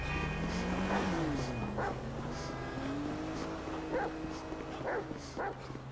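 A dog in the video game GTA V barks and yips a few times in short bursts over a steady low hum, with some muffled talking mixed in.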